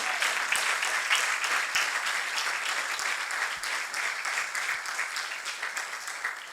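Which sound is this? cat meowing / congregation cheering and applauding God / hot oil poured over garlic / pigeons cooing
congregation cheering and applauding God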